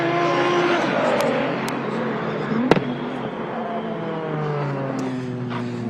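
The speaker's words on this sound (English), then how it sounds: "We've actually got a heap of cars on track at the moment." Race cars circle the track at World Time Attack Challenge, engines droning and shifting pitch from a distance, with one sharp crack partway through and low background noise throughout.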